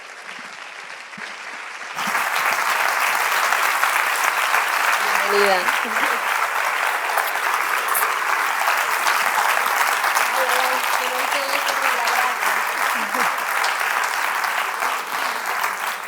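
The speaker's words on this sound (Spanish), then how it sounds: "Un aplauso, por favor, para Elena Resano" Audience applause welcoming journalist Helena Resano onto a stage, bursting in after a brief spoken introduction and continuing loud and sustained, with a voice speaking briefly over it.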